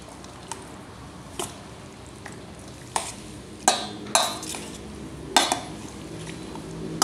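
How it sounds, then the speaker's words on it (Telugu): A utensil scrapes and clinks against a pan while ingredients with ginger are stirred together, giving irregular knocks and scrapes, some sharper and louder in the middle, over a low steady background. "ఇప్పుడు ఇదంతా మిక్స్ చేసుకుందాం."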